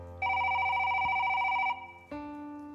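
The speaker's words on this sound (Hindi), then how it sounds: "ये फोन किसका आ गया?" A telephone rings loudly in a steady electronic trill for about a second and a half, pauses briefly, then starts ringing again.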